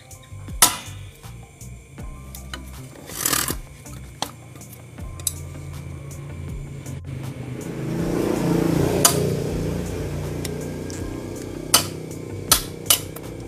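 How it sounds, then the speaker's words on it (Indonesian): A hammer drives a nail through a part of a Sanyo twin-tub washing machine, giving a handful of sharp metallic knocks spaced irregularly, with quieter handling clatter between them. "setelah kita getok pakai palu, pakai paku nih, tembus nih"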